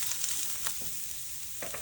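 Onion fries in a pan at home for a street-style tawa paneer burger, a steady soft sizzle with a few faint scraping touches, heard alone.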